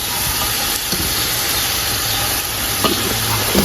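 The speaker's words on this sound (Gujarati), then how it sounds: "ડુંગળીને તેલની અંદર સડવા દેવાની છે" Onions frying in oil in a pan for dal bhakhari, a steady close sizzling hiss running unbroken throughout with faint crackles, no talking.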